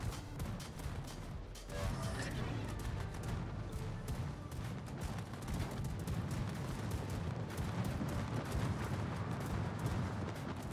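Secondary guns of the French battlecruiser Marseille firing in World of Warships, a dense continuous barrage of booms and cracks that rolls on without pause, heavy and rumbling throughout.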